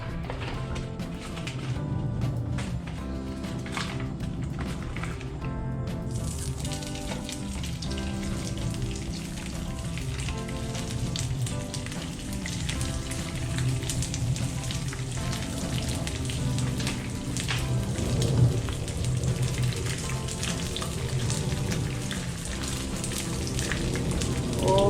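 Dried anchovies and danggit fish frying in a pan of oil, a loud, continuous crackling sizzle with rapid pops that swells a little as more fish goes in, heard close up and without talk.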